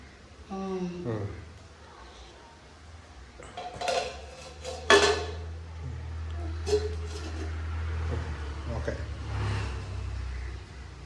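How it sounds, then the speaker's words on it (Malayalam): A spoon scrapes and clanks in a pot of curry, then a lid clatters down on top, with a low steady hum underneath and a voice talking at points. "ആ നല്ലോണം ഒന്ന് ഇളക്കിയിട്ട് മൂടി വെക്കാം"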